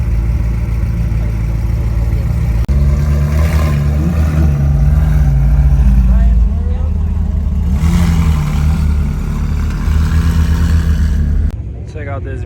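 A car revs at an outdoor cars-and-coffee meet, a loud sustained mid-pitched engine roar rising and falling over several seconds, with people talking and crowd chatter throughout.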